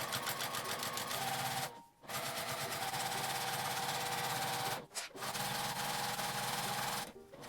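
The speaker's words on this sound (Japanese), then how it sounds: "マグネットガイドをつけると端縫いが簡単です。" A sewing machine edge-stitching a fabric shoulder strap made from twill tape, a steady loud whirring run broken by three short pauses.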